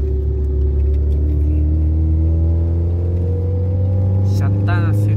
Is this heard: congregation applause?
no